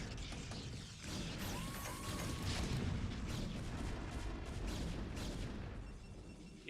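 Siege tanks fire on a mass of zealots in a StarCraft match: a dense, continuous barrage of booms and explosions with mechanical clatter, loud and sustained across the whole stretch, with no talk.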